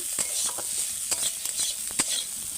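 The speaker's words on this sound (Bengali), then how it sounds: "করলাটা পুরো ভাজা ভাজা হয়ে গেছে একদম পুরো ভেজে নিচ্ছি" Bitter gourd sizzles in a wok as it fries, a close continuous hiss broken by several sharp spatula scrapes against the pan; no talk.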